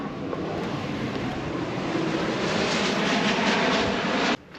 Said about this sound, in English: The Americans interrupting my video in their Learjet